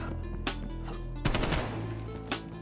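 Gunfire in a Gun Game round of a shooter video game, a few sharp shots spread out, then a burst of rapid fire mid-clip over a steady electronic background hum, with no talking.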